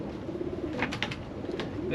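A pigeon hen, mother of a top racing pigeon, coos softly in a loft, a few low repeated coos partly under someone talking nearby.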